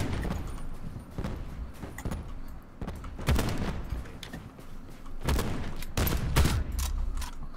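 Rapid bursts of gunfire from the shooter video game Black Ops 4, repeated volleys and single shots over a steady rumble of in-game action, loud and close throughout.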